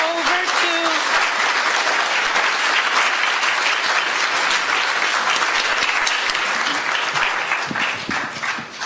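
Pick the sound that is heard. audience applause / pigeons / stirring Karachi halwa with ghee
audience applause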